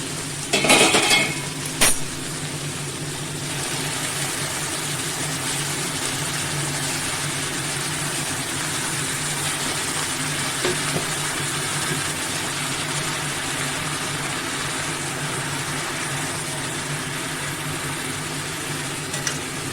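Bottle gourd frying in a pan for a fish-head curry, stirred with a utensil: a few loud clanks of metal on the pan at the start, then a continuous moderate sizzle and hiss.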